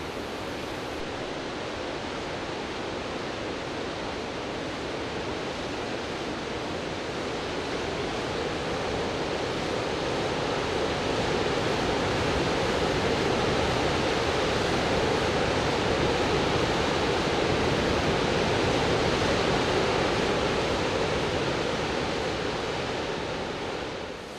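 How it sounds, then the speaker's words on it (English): Great Falls waterfall in Auburn and Lewiston, Maine, water thundering over rocks as a dense, continuous roar that swells slightly toward the middle and holds steady without pause. "as the water thunders over the rocks"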